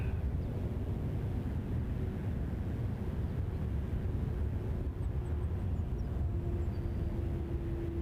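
An Emirates airliner passing at Toronto Pearson Airport, heard as a steady low broadband engine roar with a faint whine, fairly distant and continuous.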